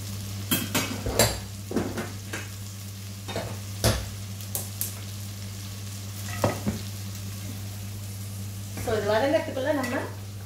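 Potato curry slowly sautéing in a pan, with a soft background sizzle under intermittent clinks and scrapes of a utensil against the pan, a steady hum underneath, and a brief voice near the end.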